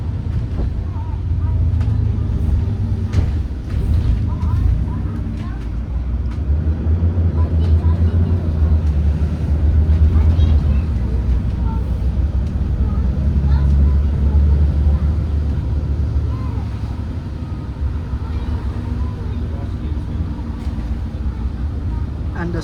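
Inside a Volvo B9TL ADL Enviro500 tri-axle double-decker bus in service, a low, steady diesel rumble and drone fills the cabin, with rattles and faint road noise throughout, and a voice talks over it.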